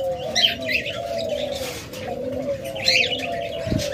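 Japanese pigeons, a breeding pair, coo in soft repeated low calls with faint chirps over steady background noise, close by.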